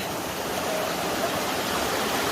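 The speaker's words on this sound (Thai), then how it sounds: "น้ำตกไหลมาจากทางนู้นด้วย" Waterfall pouring into a cool forest stream, a dense steady rushing roar that holds evenly throughout with no voices over it.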